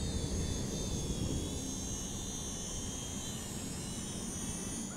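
A small ATTOP X-Pack 18 quadcopter drone flies outdoors on a windy day, making a continuous high-pitched motor whine layered over broad rushing wind noise. The sound is steady and fairly close throughout, with no talking.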